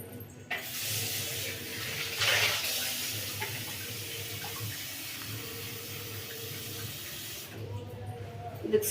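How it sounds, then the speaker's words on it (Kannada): Water pours steadily into a pressure cooker holding drumstick leaves, a continuous close splashing gush that runs for several seconds before stopping. "ಇದಕ್ಕೆ ಸ್ವಲ್ಪ ನೀರು ಹಾಕ್ಕೊಳ್ತೀನಿ, ಜಾಸ್ತಿ ಬೇಡ"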